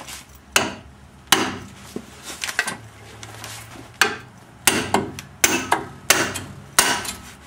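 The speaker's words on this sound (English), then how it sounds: "And then what we'll do is just whack that in there until she pops out." A 4-pound hammer strikes a Subaru EA82 steering knuckle repeatedly, sharp metallic whacks coming close and loud at an irregular pace, about ten blows with brief gaps between them and no talking.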